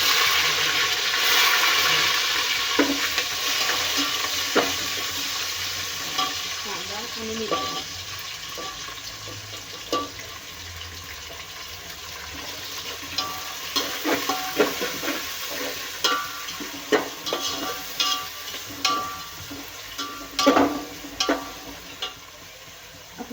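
Onion and green chili frying and being stirred in a pan for a Maharashtrian khichdi, with steady sizzling and clicks and scrapes of a spatula toward the end, heard alone and close.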